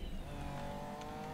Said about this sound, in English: They are racing dirty right there.